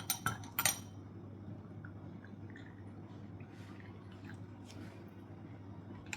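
A spoon clinks sharply against a glass or cup a few times at the start while chana sattu drink is stirred, followed by soft, faint swishing and clicking.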